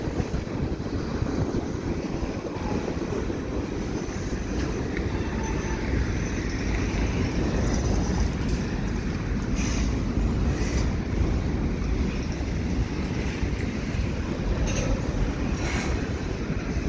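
A long freight train rolls past on a curve, a steady loud rumble and clatter of railcars continuing throughout, with wind buffeting the microphone.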